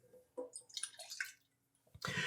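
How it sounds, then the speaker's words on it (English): Balsamic vinegar poured into a small saucepan, a close, gurgling trickle with drip-like splashes that pauses briefly and then comes back as a steadier pour. "I'm just going to put this in my little saucepan here."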